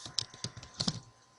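A computer keyboard is typed on in a quick burst of soft, close key clicks lasting about one second.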